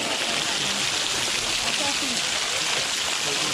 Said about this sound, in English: Towards the end here, there's a beautiful little waterfall as well that you can go to.